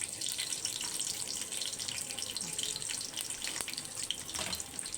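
Water runs steadily from a kitchen tap while a potato-and-meat tray and vermicelli rice are cooked, a close, continuous splashing rush with small fluctuations and no talking.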